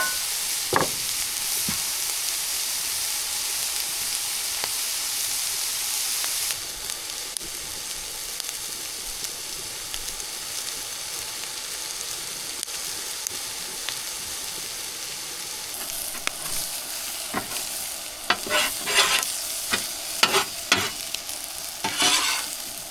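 Food sizzles steadily on a hot griddle, a dense close hiss that swells near the end with scattered sharp scrapes and clicks of a utensil, with no talking.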